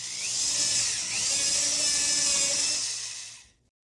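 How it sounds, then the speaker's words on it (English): A power drill spins freely without cutting while a machine-monitoring setup tracks it: a steady, loud, high-pitched whine heard close and alone for over three seconds, then stopping abruptly. "I'm going to be depressing the drill button here, and it's going to spin the drill"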